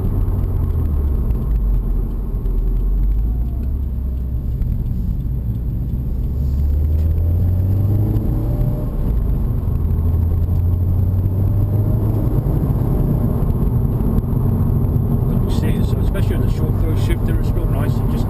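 A 2016 Subaru WRX engine drones steadily from inside the cabin while driving, its pitch rising and easing as revs change, with someone talking over it throughout.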